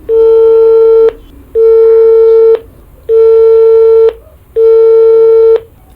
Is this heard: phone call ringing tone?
yes